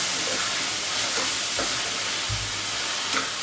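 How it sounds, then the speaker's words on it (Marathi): Onions frying in a pan for dhaba-style chicken, a steady broadband sizzle close by with a few soft stirring scrapes, no voices. "कांदा चांगला भाजून घेते मी."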